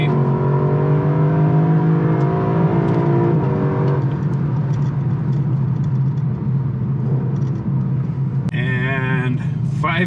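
A 2023 Lexus LC500 accelerates at full throttle in Sport Plus, its engine rising steadily in pitch through the gears as a loud, continuous roar heard from inside the car.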